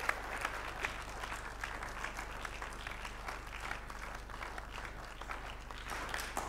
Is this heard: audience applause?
yes